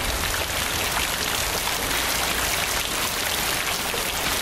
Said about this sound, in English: That rain is loud.